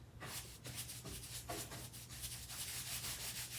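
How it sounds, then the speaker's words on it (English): Light hand sanding of a primed wooden nightstand with 200–220 grit sandpaper, a continuous close scratchy rubbing in quick back-and-forth strokes, with no voices. "Just give it a light sand of 200, 220 grit."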